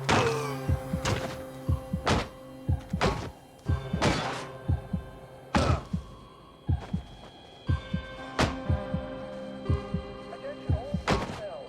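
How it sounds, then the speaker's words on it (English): Bombing explosions in the video game We Happy Few at a military camp, a series of heavy, booming thuds arriving in irregular clusters over a steady low hum, loud and close. "They're bombing us again!"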